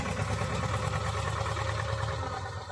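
Old Zetor 2011 tractor engine running while ploughing a field of napier grass, a steady low diesel rumble with a faint rhythmic knock, continuous and moderately loud.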